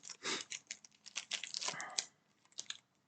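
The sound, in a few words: shuffling Yu-Gi-Oh card packs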